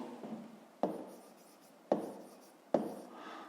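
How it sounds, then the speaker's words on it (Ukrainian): Handwriting on paper, working a maths exercise, with soft scratchy pen strokes and three sharp taps as the pen comes down, close and quiet with no talking. "Записуємо перше. Пишемо оскільки."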